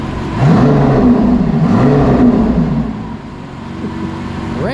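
A twin-turbo Dodge Viper revs hard through an SVJ-style exhaust, its note rising and falling in pitch through a couple of loud bursts before settling to a lower idle.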